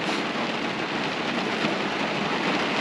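Rain falls steadily on a parked car with fogged-up windows, a dense, even hiss heard from inside that stays constant throughout with no talking.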